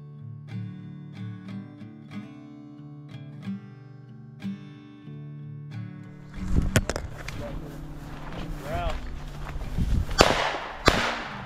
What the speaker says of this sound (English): Nice shot, hey, Jacob.